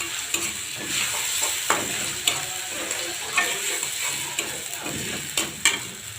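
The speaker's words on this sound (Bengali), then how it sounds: "আদা রসুন বাটা দিয়ে একটু নাড়তে হবে ভালো করে।" Ginger-garlic paste sizzles and fries in a pan while a utensil stirs and scrapes it, with sharp clinks and scrapes over a steady sizzle throughout.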